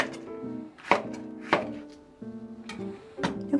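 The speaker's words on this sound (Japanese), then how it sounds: "長ネギは九条ネギと違って斜めに切っていきます。" Knife slicing a leek diagonally on a cutting board, a few sharp thunks spaced about half a second apart, close by, with faint background hum.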